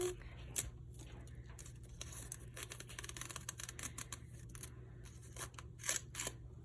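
Dry, crackly rustling and small tearing snaps as paper wrapping is peeled away from a charcoal pencil, close and quiet over a low steady hum.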